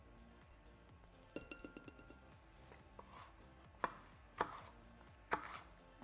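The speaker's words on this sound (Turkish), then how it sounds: "Sonra hepsini olabildiğince küçük doğruyoruz." Knife chopping pizza filling ingredients into small pieces on a board, a run of quick taps followed by several sharper, louder chops, close up, with light clinks and no talking.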